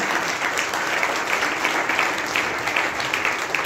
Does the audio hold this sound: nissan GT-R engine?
no